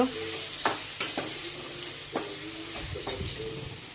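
Brinjal frying in hot oil in a pan while being stirred, a continuous sizzle with several distinct scraping spatula strokes spaced through it, close and fairly quiet, no voices.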